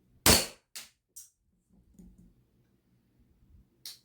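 A SIG We The People CO2 air pistol fires, giving one sharp, loud crack followed by several fainter snapping shots and a final crisp pop, with quiet handling noises between them.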